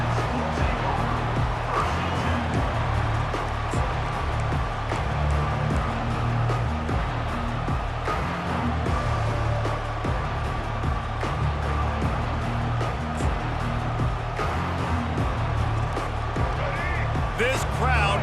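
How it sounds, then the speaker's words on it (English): Steady, dense roar of a stadium crowd in a college football video game, Nebraska versus Colorado, filling the background continuously under a play-by-play commentator's voice. "This crowd bringing an ear-splitting welcome to their visitors."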